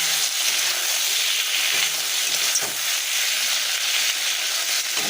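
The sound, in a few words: frying green beans, tomato and mustard paste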